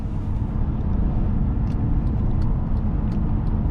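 A 2012 Honda Pilot EX-L SUV with a V6 engine cruises at speed, giving a dense, steady road and engine roar heard from inside the cabin, with a few faint clicks over it and no talk.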